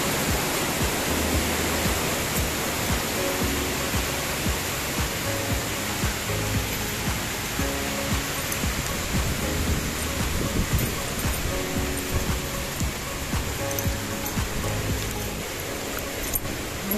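Busay Falls in Sorsogon pours in a constant, dense roar of falling water, loud and unbroken from start to finish with no clear voices.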